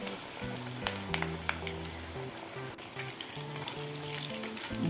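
Chicken pieces and curry leaves frying in hot oil in a kadai, a continuous crackling sizzle with scattered sharp pops and a low steady hum underneath, close up.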